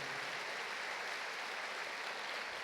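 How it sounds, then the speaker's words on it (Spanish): A church congregation applauds in one steady, dense wash of clapping, faint and distant, with no voices over it. "¿Cuántos le pueden dar un fuerte aplauso a este Jesús que es amigo de pecadores?"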